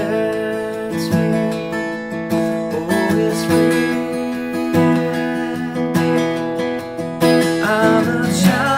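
An acoustic guitar strums the pattern for a worship song at a brisk tempo, with bright, ringing chords and regular accented downstrokes. It plays close and alone, with no voice over it.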